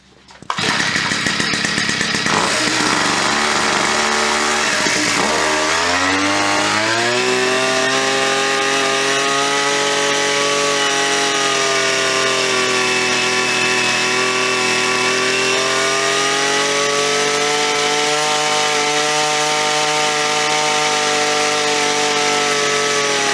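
A small two-speed UberScoot 2x gas scooter engine, newly assembled and still breaking in, starts and then runs loud and steady close by, its buzzing tone climbing and dipping slightly before settling into a sustained high idle.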